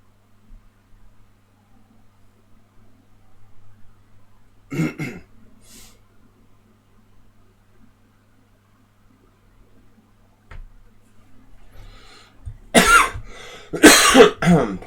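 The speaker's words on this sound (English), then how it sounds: "Apologies for coughing." Several rough coughs and throat clearings, two brief bursts early on and a louder, heavier cluster near the end, close to the microphone in an otherwise quiet room.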